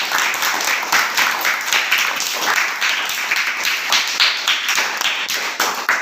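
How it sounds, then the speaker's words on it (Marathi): Schoolchildren clap loudly for a student about to tell a story, a dense, continuous burst of applause from a close group that keeps an even level throughout. "सर्वांनी तिच्यासाठी प्रथमतः जोरदार टाळ्या वाजवायच्या आहेत"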